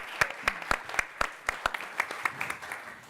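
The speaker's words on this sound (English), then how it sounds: "Let's give them a round of applause." Audience at a generative AI summit panel applauds the panelists, evenly spaced distinct claps in a steady rhythm, close and moderately loud, gradually thinning toward the end.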